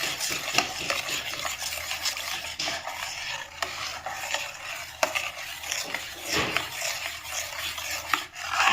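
A spoon scrapes and swirls through broccoli soup as milk is stirred in, a continuous close rasping stir with a few sharper knocks against the pot, and no voices.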